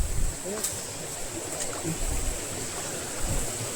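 A shallow stream flows in light rain, a continuous rushing, gurgling wash close by, with faint patter over it and no talk.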